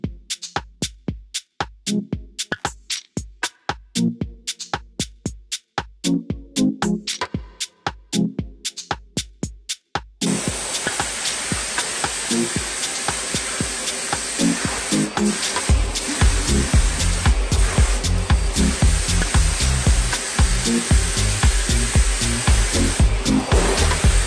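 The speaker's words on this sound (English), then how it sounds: "We're gonna spray the primer." Primer sprayed onto a bathtub during reglazing: sharp rhythmic puffs and clicks of a spray rig at first, then a loud continuous hissing spray that fills the rest, close by and with no voices.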